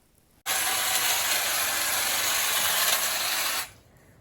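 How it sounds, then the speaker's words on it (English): A SnapFresh cordless hedge trimmer cuts small tree branches. The motor starts abruptly and runs as a loud, steady buzzing whir with a gritty chatter from the blades for about three seconds, then cuts off sharply. "Even the small branches on these trees are cut easily with this hedge trimmer."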